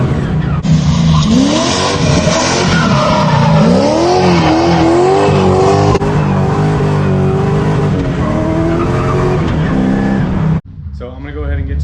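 A car skids with sustained tire squeal and engine roar during street testing on coilover suspension, loud and close for about ten seconds before cutting off abruptly, with a voice audible over it.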